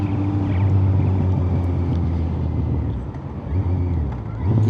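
A motorcycle ridden in fourth or third gear along a narrow residential road, a steady low engine drone mixed with wind rush against the microphone, dipping briefly before picking back up.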